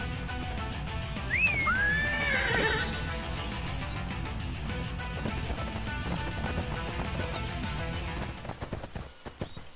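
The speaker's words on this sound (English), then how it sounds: "Donkey." A donkey-like animal in a video game lets out a loud braying whinny with rising and falling pitch, over a busy game soundtrack of clattering effects that fades near the end.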